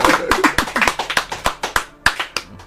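Clapping at a Yoruba gathering, a brisk run of roughly fifteen crisp, close hand claps in a steady rhythm, with a faint voice briefly underneath.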